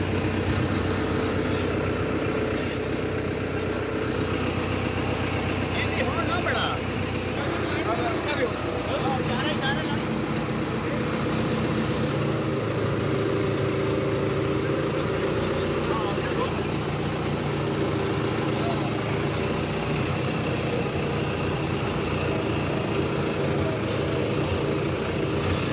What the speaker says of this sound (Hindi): शानदार ट्रैक्टर है जी।